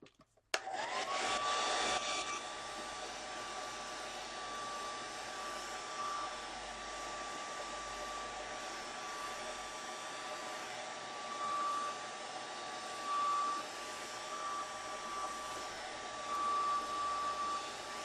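A hair dryer runs steadily and close for nearly the whole stretch, drying a Gelli plate print on art cards, its broadband whoosh constant with a faint whine and small fluctuations as it moves.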